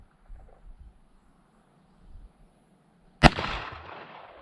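A single sharp, loud rifle shot from a Colt Lightning deluxe medium frame slide-action in .44-40 cracks out near the end and rings into a lingering echo, preceded by quiet handling noises and low murmuring.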